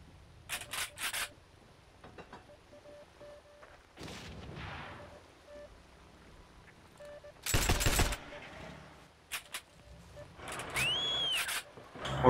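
Scattered gunshots crack in the World War II multiplayer shooter Heroes & Generals, with one loud, sharp burst in the middle and a few brief distant shots around it. Quiet voices talk in between.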